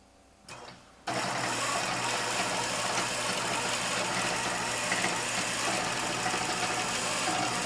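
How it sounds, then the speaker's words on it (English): An embroidery sewing machine stitching along marked lines for a quilt block starts after a brief motor whir. It then runs as a steady, close, continuous mechanical hum and rattle without pause, and no one speaks. "I will just stitch along my marked lines to get the block"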